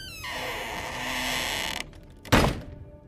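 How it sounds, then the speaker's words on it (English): A wooden trapdoor groaning with a long, drawn-out creak as it lurches open, then a sudden loud slam as it falls over, followed by a brief quiet tail. "And the trapdoor just lurches up and slams back over the other side."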